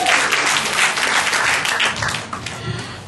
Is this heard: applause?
yes